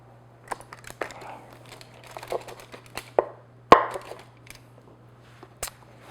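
A knife slicing through chocolate brownies in a pan, giving a series of crisp, close cuts and scrapes, several sharp strikes spaced unevenly, with a faint steady hum underneath.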